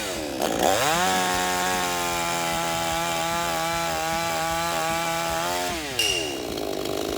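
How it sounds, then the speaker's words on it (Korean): A gas chainsaw revs up and bites through a log about 15 cm thick, holding a loud, steady snarling drone for several seconds before dropping back to idle, close up. "15cm 정도 되는 나무를 절단하는 영상을 지금 보여봐 드릴 건데요"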